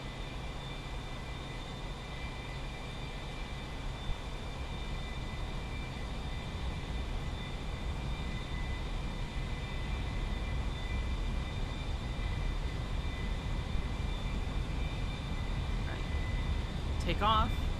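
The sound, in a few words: aircraft engine accelerating for takeoff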